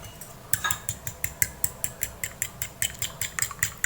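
Eggs beaten with a spoon in a bowl make quick, evenly spaced clinking strokes, about five per second, close and crisp with no talk.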